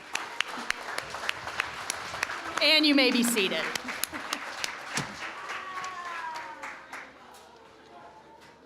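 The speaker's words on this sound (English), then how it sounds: "So let's give us all a round of applause." Audience applause at a ribbon-cutting ceremony for the Lincoln Campus, a steady patter of many hands clapping at moderate distance, with a voice speaking over it and the clapping thinning toward the end.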